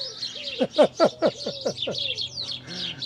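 Outdoors, a bird gives a quick series of about six sharp, descending chirps close by, followed by softer, fainter calls trailing off.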